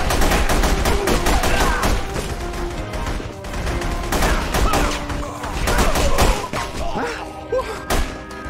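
Gunshots from The Punisher video game fire in rapid, loud volleys with heavy thuds and crashes mixed in, dense and close throughout.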